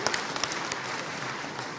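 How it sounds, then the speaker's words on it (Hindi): Audience in a hall at an employment-day government event claps in welcome, a brief, fairly even wash of applause without speech. "आजीविका मिशन की बहनों का तालियां बजा के स्वागत करें"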